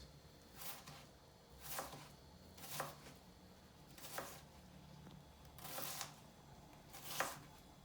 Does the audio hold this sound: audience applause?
no